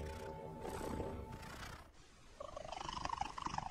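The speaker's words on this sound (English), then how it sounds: "Recent research discovered a second type of purr that cats use." A cat gives a loud, urgent soliciting purr with an extra high-pitched cry woven in, the rising tone growing over the last second and a half after a rumbling stretch, alone without talk.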